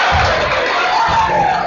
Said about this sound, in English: And the crowd like that one as Simon Enns gets it swatted.